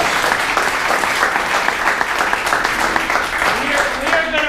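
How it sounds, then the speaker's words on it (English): Full room of attendees at a tech talk on NoSQL databases and Docker applauds two presenters, a dense sustained clatter of many hands with some chatter underneath. "let me just first give a great big round of applause to Alvin and Richard"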